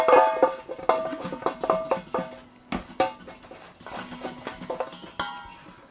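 A filter candle is screwed tightly into a stainless steel Berkey portable water filter container, giving close, irregular metallic scraping, clinks and knocks with no talking.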